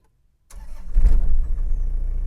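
A 1995 Toyota Tamaraw FX diesel engine cranks and catches after glow plug warm-up, then settles into a rough, steady idle, close and loud, with no voices.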